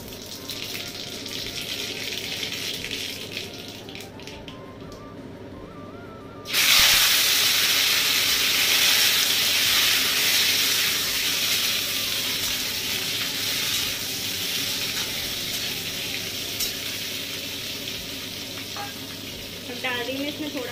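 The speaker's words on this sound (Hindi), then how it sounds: "इसको थोड़ा सा सरसों डालने के बाद थोड़ी देर फ्राई करूँगी" Mustard seeds fry in hot oil in a home kitchen in Uttarakhand. A quiet stretch gives way to a sudden loud, steady sizzle and hiss that continues close up for the rest of the time.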